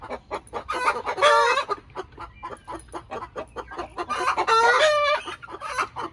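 A hen cackles its egg song, a rapid series of clucks building into two loud drawn-out squawks, with other chickens clucking nearby.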